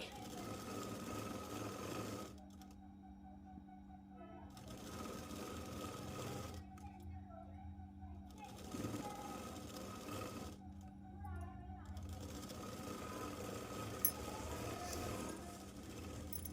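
A sewing machine double stitches a Punjabi dress in several long runs of steady motor whirring, separated by brief pauses, against a constant background hum.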